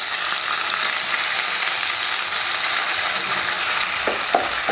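Two large onions sliced lengthwise frying in hot oil with spluttered mustard seeds and cumin, a loud steady close sizzle throughout, with a few hard taps near the end.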